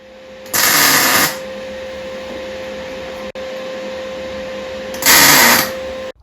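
Tack welding on a Motostandard 1010 motorcycle front wheel under repair: two short, loud hissing bursts about four seconds apart, with a steady electrical hum running underneath.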